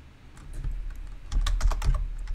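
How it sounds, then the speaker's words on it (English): Rapid keystrokes on a computer keyboard clatter in short, uneven bursts, close and fairly loud, with no voices. "So let's type here"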